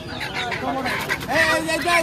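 Chickens cluck and squawk close by in a busy, overlapping chorus, with people talking in the background.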